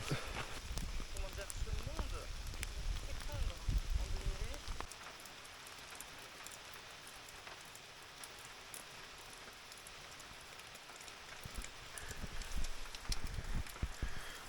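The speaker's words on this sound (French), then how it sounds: "Bon bah il pleut bien." Steady rain patters on a hut roof in the Pyrenees, a dense hiss that grows heavier at the start and end and eases in the middle.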